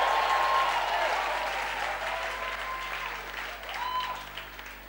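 A church congregation claps and celebrates during a sermon by Apostle Steve Flandorp, steady applause heard at a distance that gradually fades and then swells again briefly near the end.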